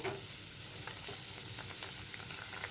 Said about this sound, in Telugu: ఇవి కాసేపు ఇలా ఫ్రై చేయాలండి